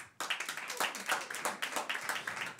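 Audience clapping at a live comedy premiere show in a venue called Waschsalon, a quick rhythmic patter of hands from a modest crowd, fairly faint and without talk.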